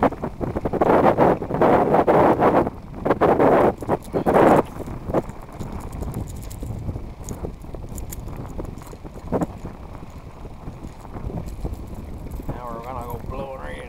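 Strong wind buffets the microphone on a lake during spring bass fishing on Lake Champlain, a loud rushing roar that surges heavily early on, then settles into a steadier blustery wash with light water movement.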